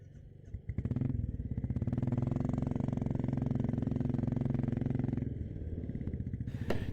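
A motorcycle engine idles, then revs up and runs loud and steady before easing off, heard close up at the start of a ride on a mountain road in Uttarakhand.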